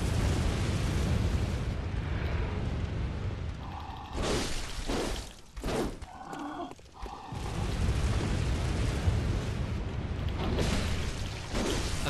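Enemy gunfire in Bloodborne, heavy booming blasts over a dense, rumbling mechanical game backdrop, with a few sharp bursts in the middle and no talking.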